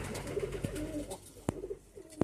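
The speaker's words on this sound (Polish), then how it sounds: "Tutaj sporo ptaków śpi." Pigeons cooing softly in a loft where many birds roost, several low coos and a few wing flutters or clicks nearby.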